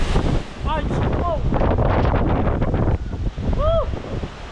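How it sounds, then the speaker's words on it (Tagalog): Strong wind and heavy rain roar through a storm in a continuous loud rush that buffets the microphone, with excited vocal exclamations and whoops cutting through. "Ang lakas na naman ng ulan at hangin."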